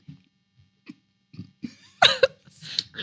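A single short, throaty burp from a person in a quiet podcast recording room, fairly loud against near silence, with a few faint soft sounds before it and a brief noisy rustle after.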